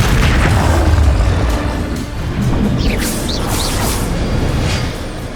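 Bombarda blasting spell going off in Hogwarts Legacy, a loud, booming explosion with a heavy low rumble that fills the clip, briefly dipping near the middle before another sustained blast and crackling debris.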